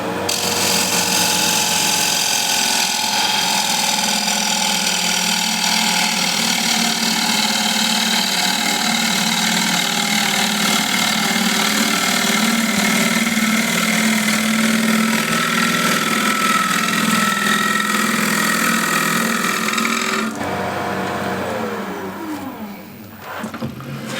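A bowl gouge with a long grind cuts into a wooden bowl spinning on a lathe, giving a steady, loud shearing hiss with a droning motor hum that runs continuously and then drops off sharply near the end.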